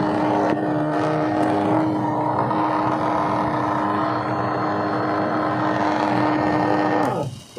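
Mixer motor running steadily with a constant whirring drone and a steady hum, cutting off with a shift in tone near the end.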